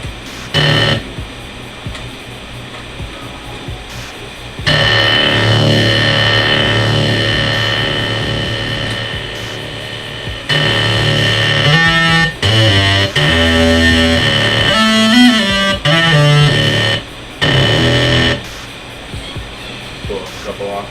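Heavily distorted electronic music, hip-hop production style, with buzzing saturated synth tones and gritty pulsing beats, loud and dense throughout with abrupt cuts and stutters between sections.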